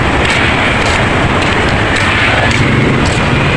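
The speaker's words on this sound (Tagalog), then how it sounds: "maulan at wet road kasi biglang biglang ulan" Sudden heavy rain pours steadily onto a wet road, a dense continuous hiss with no letup, and no one talks over it.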